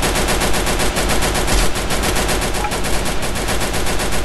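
Rapid automatic gunfire from a scoped weapon in a shooter video game, a dense, continuous loud burst of shots with no pauses, close and dominant throughout.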